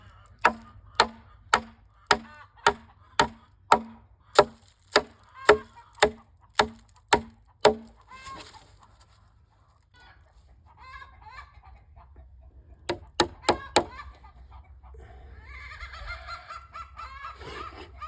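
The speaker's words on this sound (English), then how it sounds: "Our chickens are making a new noise today, this week." Backyard chickens make an unusual new call: a steady, evenly spaced run of sharp pulses, then a pause and scattered clucking and squawks, fairly faint.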